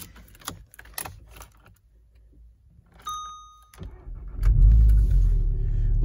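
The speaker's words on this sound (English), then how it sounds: "Turn the engine on" Clicks and a key jingle, a brief electronic chime, then a 310 PS Volkswagen Golf R 4Motion engine cranks and catches into a deep, loud idle rumble close by.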